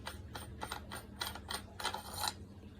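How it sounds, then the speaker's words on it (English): Barrel shroud being unscrewed from an FTT111 air rifle: a series of short metallic ratcheting clicks and scrapes in quick bursts, close and moderately quiet, with no talking. "We will remove the barrel shroud, which just screws on."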